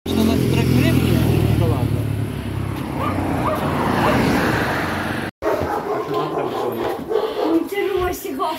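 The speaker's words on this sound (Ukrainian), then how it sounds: "я почула, Ростик гавкає" A dog barks indoors during a move into a new apartment, the yaps blending into loud household noise and people talking over it.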